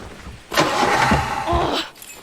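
An engine cranking and failing to catch in Far Cry 3, a loud sputtering burst of about a second and a half that rises, holds and cuts off, with no talk over it.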